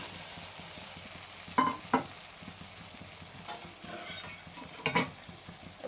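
Pointed gourd and potatoes fry in oil in a pan, a soft, steady sizzle under a few sharp scrapes and clinks of a spatula as the pieces get stirred.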